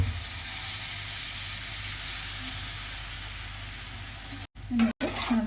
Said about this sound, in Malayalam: ഇനി നമ്മൾ ഒരു അറുപത് എം എൽ വിനാഗിരി കൂടി ചേർത്ത് കൊടുക്കാം